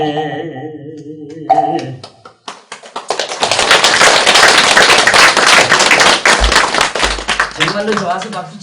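A crowd bursts into loud, dense clapping that keeps going for several seconds and then thins out. Someone speaks just before it starts, and a voice returns as it fades.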